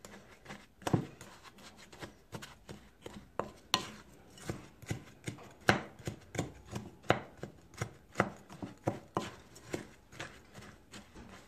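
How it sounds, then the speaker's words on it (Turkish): Oats, nuts and molasses for a muesli slice are mixed in a bowl, making steady rhythmic knocks and scrapes as the spoon strikes the bowl over and over at a brisk, even pace. "Şimdi bunları böyle güzelce harmanlıyorum."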